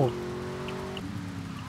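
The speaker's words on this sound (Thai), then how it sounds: "ฝนตกนะตำรวจไม่ทำงานนะ" Steady rain hisses down in the GTA Vice City video game, a soft broadband wash running beneath a droning car engine hum that shifts pitch partway through.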